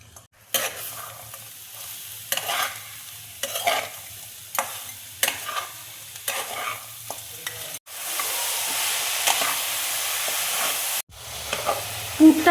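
A coconut and jaggery filling for chirer pitha is stirred in a pan, with about six rhythmic scraping strokes over a low hiss. These give way to a louder, continuous sizzle and hiss that cuts off and then resumes briefly.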